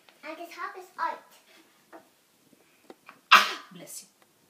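A child's sneeze during a Montessori circle time, one sharp loud burst after soft child speech and a few faint noises.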